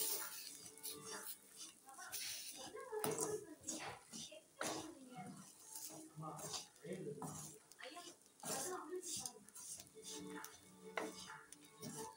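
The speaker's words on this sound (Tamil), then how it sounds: "மல்லித்தூள் சேர்த்து நல்லா கிளறி விடுங்க" Chicken curry is stirred in a pot after coriander powder goes in, with steady scraping and clattering strokes under a soft sizzle, close and fairly busy throughout.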